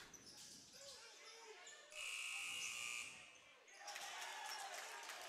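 A loud basketball shot clock buzzer blares for about a second amid crowd noise at a boys' high school game, followed by a rising cheer as a buzzer-beating three counts.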